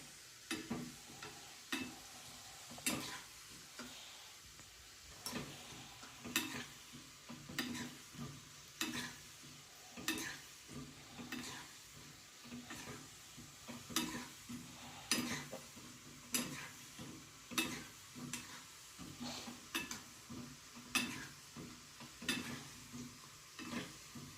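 A utensil scrapes and stirs thick bubbling jaggery syrup in a pan, steady rhythmic strokes every second or so with a soft simmering hiss underneath.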